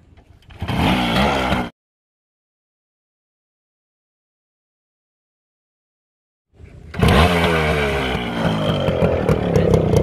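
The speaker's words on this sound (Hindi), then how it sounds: "भाई ये स्टार्ट कर रहे हैं एकदम किक वाला।" A TVS Max 100 motorcycle being kick-started gives a brief raspy engine burst, then several seconds of silence, then the engine catches and runs loud and close with a buzzing, steady idle.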